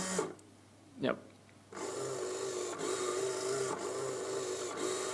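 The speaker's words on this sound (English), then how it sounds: "that's a Rotary Tactile Stimulator" A Rotary Tactile Stimulator, revision 5, starts up after a short pause and runs with a steady, broadband rasping whir for several seconds, close and fairly loud, with faint periodic ticks; a brief word is spoken before it starts.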